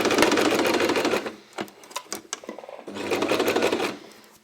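A sewing machine stitches a shirt sleeve hem in two fast, rattling runs, with slower single needle taps and a pause between them. It is close and clear with no talk.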